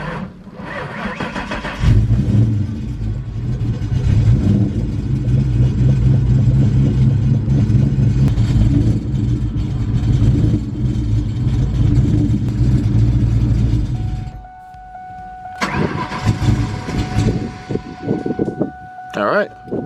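A car engine cranks with its fuel pump fuse pulled during a compression test, turning over in a loud, steady rhythmic drone for about twelve seconds without catching before it stops. A voice talks over part of it.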